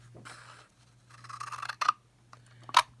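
Scissors snip a small piece of Pretty in Pink cardstock, a few soft scraping cuts followed by two sharp close clicks, with a faint low hum underneath.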